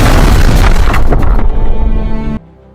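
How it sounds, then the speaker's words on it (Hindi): A powerful car bomb blast near Delhi's Red Fort erupts in a loud, close boom with crackling debris, then the roar cuts off sharply and a faint tonal ring lingers. "एक बहुत बड़ा बम धमाका होता है"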